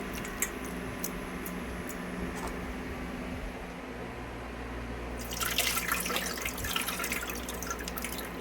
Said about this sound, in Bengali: চিড়েটা ধুয়ে নেব প্যাকেটটা